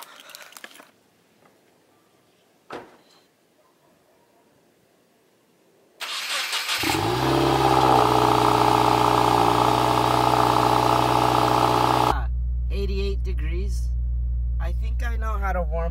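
A Subaru WRX engine cranks and fires up after a quiet stretch with a faint sound or two, then runs loud and steady at a fast idle before the tone shifts lower and rougher as it settles.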